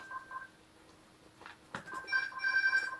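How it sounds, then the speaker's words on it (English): A telephone rings indoors with repeated electronic trilling bursts that grow louder and denser in the final second, after a sharp knock and quieter ringing earlier; no talking. "I'll just end that video there because the phone's ringing"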